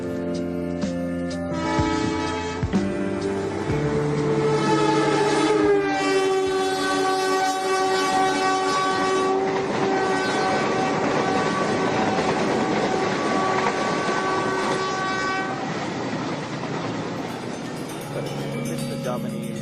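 Trains pass through Semarang near Lawang Sewu, rumbling and clacking along the rails while a loud, sustained horn sounds in long held blasts over the passing cars.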